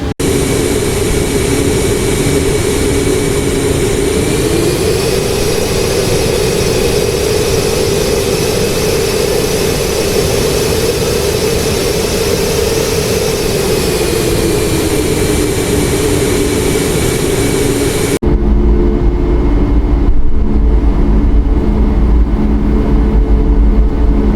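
Boeing 737 MAX 8 jet engines in the iFly flight simulator game drone loudly and steadily while taxiing, with a whine that rises and holds, then the tone shifts abruptly late on.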